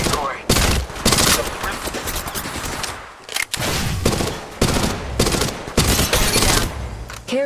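Rapid automatic gunfire from the Apex Legends Mobile video game in several loud bursts, with short gaps and game voice lines in between.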